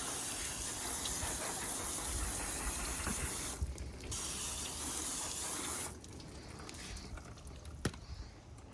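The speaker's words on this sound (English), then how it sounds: "just rinse it with water." Water hisses from a spray onto a freshly cleaned car headlight, a steady rinsing rush that cuts out briefly and then resumes more softly.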